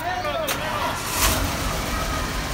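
A car approaches from behind on a street, its engine a low rumble building under nearby talk, with a brief swell of road noise midway through.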